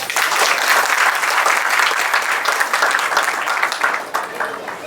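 Wedding guests break into loud, sustained applause, a dense crowd of hands clapping close by that holds steady for several seconds and tapers slightly at the end.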